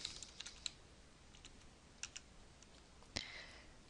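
Scattered keystrokes on a computer keyboard as a username is entered, light irregular clicks in small clusters with pauses, ending in a sharper louder tap, quiet room, no talking.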